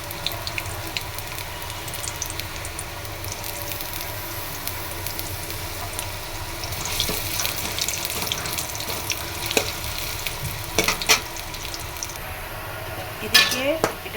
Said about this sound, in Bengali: তেল দিয়ে পেঁয়াজ দিব।